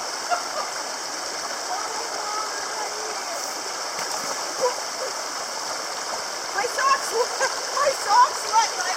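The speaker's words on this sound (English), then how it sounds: "There's some streams up here" A forest stream flowing near a campsite east of Swift Reservoir gives a steady rushing wash, with splashes rising toward the end as people talk nearby.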